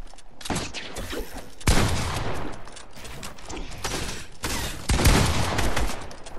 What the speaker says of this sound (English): It wouldn't let me shoot, so I had to shoot at you with my AR.